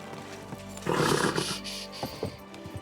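A horse in the video game Kingdom Come Deliverance II lets out a loud, close whinnying neigh, followed by a few snorts and scattered hoof clops.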